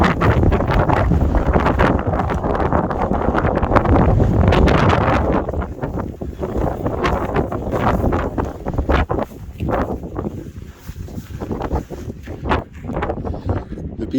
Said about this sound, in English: The bealach is a natural funnel point for the wind, so once I step out beyond that rock there, it's quite breezy